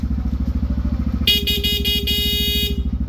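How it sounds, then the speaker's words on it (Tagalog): A Bosch Europa dual horn fitted to a Yamaha NMAX V2 scooter sounds one loud, close, sustained blast of about a second and a half over the scooter's steady idling engine. "Bosch Europa stock horn"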